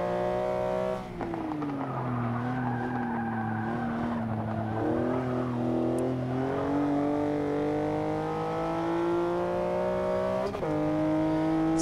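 A 2015 Porsche Cayman GTS race car engine in the video game Forza 6 drones and revs steadily from inside the cabin, its pitch rising and dipping with gear changes and throttle, with no talking.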